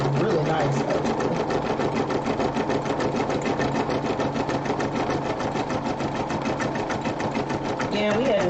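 An embroidery machine stitches a rope bowl in a fast, even, rapid-fire needle patter that holds steady throughout, with a brief voice at the very start.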